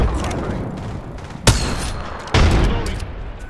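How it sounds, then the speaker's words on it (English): Video game gunfire in a shooter crackles in quick bursts, with two sharp, loud blasts standing out against a busy background of rapid shots. "I am taking fire."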